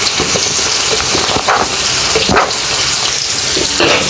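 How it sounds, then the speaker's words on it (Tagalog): Chopped onions hit hot oil in a frying pan, breaking into a loud, steady sizzle that fills the whole stretch, with a few stirring scrapes on top. "So, ilagay din natin yung ating sibuyas na kinublang dito."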